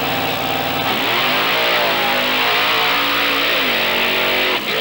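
Monster truck engine at an arena show revs hard and loud, its pitch climbing and sagging in sustained surges with a long steady roar, no voices heard.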